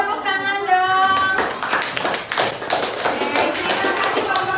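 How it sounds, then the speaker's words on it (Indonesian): Pupils in a classroom clap their hands after a group presentation, a brisk ragged burst of many close claps that follows a sustained tone at the start, with faint voices in the background. "Coba kasih tepuk tangan dong."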